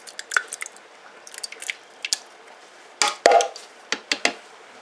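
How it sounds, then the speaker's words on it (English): Chopped tomato dropped into a pot while cooking Ghanaian turkey light soup, heard as a series of soft wet squishes and close thuds, with a denser cluster of plops partway through. "Let me put chopped tomato in now."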